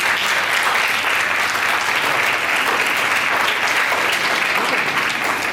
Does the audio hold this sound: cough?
no